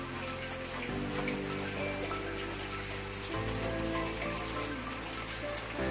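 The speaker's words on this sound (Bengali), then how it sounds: "রাতে থেকে বৃষ্টি পড়ছে" Steady rain falls throughout, a dense patter of drops over a continuous low hum, fairly loud and unbroken.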